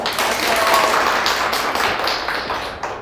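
Clapping from an audience at a lecture for real estate agent exam students, dense and fairly loud hand claps running continuously and thinning slightly near the end.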